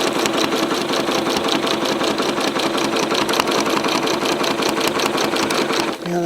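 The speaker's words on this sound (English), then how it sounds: "I'm going to go ahead and quilt this set of lines." Sewing machine stitching free motion quilting lines on a lattice grid design, a steady fast mechanical chatter running continuously at close range, stopping abruptly near the end.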